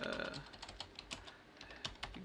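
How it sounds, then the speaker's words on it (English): Quick bursts of typing on a computer keyboard, close and moderately quiet, irregular keystrokes with a voice briefly audible at the start. "Let's type that"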